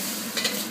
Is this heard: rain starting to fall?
no